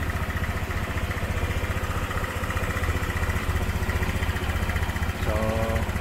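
A Honda Click 150 scooter engine idles steadily and close by after its throttle body has been refitted and its tensioner replaced, giving a continuous low hum that runs unbroken throughout.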